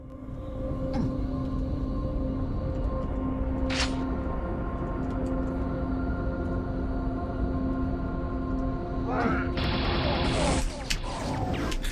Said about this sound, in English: The sound on the laser cannon is like strangely lo-fi.